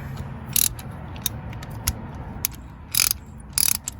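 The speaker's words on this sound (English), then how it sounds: "let's go and tighten it with the ratchet now" A hand ratchet tightens a spark plug on a Ford Expedition 5.4 3V Triton engine, making a few short, sharp clicking bursts over a low, quiet background hum, with no talk.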